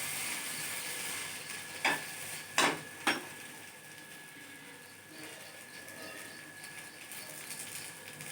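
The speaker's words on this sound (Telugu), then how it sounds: "స్టవ్ మీడియంలో పెట్టుకొని బాగా ఉడికించుకోవాలి ఊతప్పం" Uttapam sizzling in a pan on a stove over medium heat, a steady soft frying hiss with three short sharp clicks near the middle, no talking.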